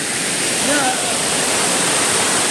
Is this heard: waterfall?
yes